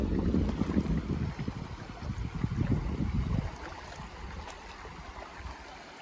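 Stream water flowing through a forest, a continuous hissing rush heard up close, with heavier low rumbling and buffeting in the first few seconds before it settles to an even, gentler wash.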